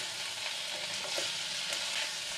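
Spices and green chillies frying in oil in a pan for a Rajasthani-style potato and eggplant dish, a steady low sizzle heard close up throughout, with faint stirring scrapes and no voices.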